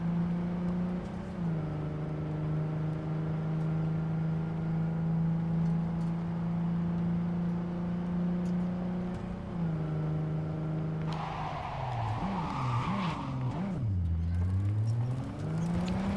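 Car driving in the video game Cyberpunk 2077, a sustained engine whine that rises and holds, then surges in wavering revs as the car accelerates and swerves.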